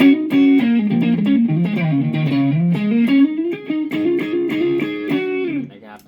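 An electric guitar with a light crunchy overdrive plays a melodic line of single notes and bends, close and moderately loud, trailing off at the end.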